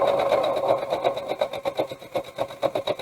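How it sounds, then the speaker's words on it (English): A sewing machine stitches fabric and backstitches, its rapid mechanical chatter steady at first and then breaking into quick pulsing bursts as it stops and reverses, loud and close. "I'm going to go ahead and start a couple stitches, and I'm going to back stitch to lock that stitch in so it doesn't unravel"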